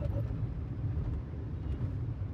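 A family car being driven, heard from inside as a steady low engine and road rumble, continuous and moderately loud with no talk.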